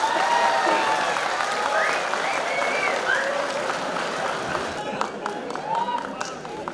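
Live comedy show audience clapping, a dense sustained wave of applause that gradually thins out, with a voice talking over the end.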